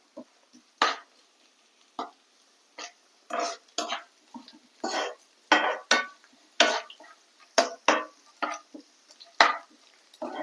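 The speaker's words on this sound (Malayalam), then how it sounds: "ഒന്ന് ഇളക്കി കൊടുക്കാം കേട്ടോ" A spoon stirs tomato and fried onions in a pan with a series of short scraping and tapping strokes, some quick and some spaced apart, close and fairly clear.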